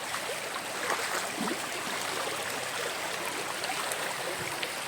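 Continuous rushing of a flooded hill river in the Konkan after heavy rain, a broad steady wash of sound with no voices.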